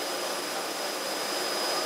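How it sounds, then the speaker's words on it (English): Steady, loud broadband roar of a Jet Provost JP5 jet trainer in flight, heard from inside the cockpit on a blustery day, with a constant high engine whine running through the whole stretch and no speech. "Despite the blustery day, the jet is remarkably smooth."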